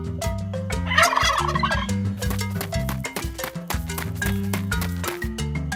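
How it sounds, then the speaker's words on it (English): A turkey on a barnyard farm gobbles loudly and repeatedly in rapid, rattling bursts close up, with tonal sound running underneath. "Turkey."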